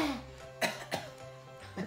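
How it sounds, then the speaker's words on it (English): A few short, muffled coughs and throat-clearing sounds, spaced apart, over a low background hum. "Coughing."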